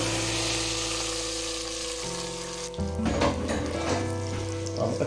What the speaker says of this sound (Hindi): हम ऑयल को प्रेशर कुकर में डालने लगे हैं।